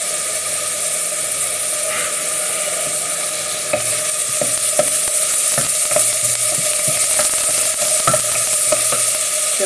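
Garlic fries in a pan for mushroom risotto, a steady, bright sizzle that holds throughout, dotted with occasional clicks of stirring, with no voices.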